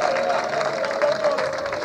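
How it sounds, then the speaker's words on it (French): Crowd applauding for the national president at a public gathering, steady clapping mixed with crowd babble and a sustained tone running underneath, moderately loud throughout. "Encore deux applaudissements très forts."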